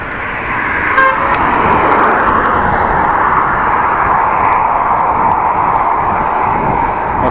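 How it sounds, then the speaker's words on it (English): Cars sweep past steadily on the N360 road beside a bike lane near Groningen, making a loud, continuous whooshing traffic roar with faint high horn toots scattered over it. "A monotone sound of cars passing."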